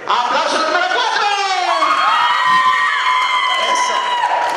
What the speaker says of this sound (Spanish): ¡Aplauso de número 4!